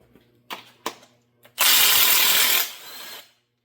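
A 1/2 inch Master Force impact wrench removes main bearing bolts from a small-block Chevy engine: a few short taps, then one sustained loud hammering burst lasting about a second, followed by a quieter whir as it spins down.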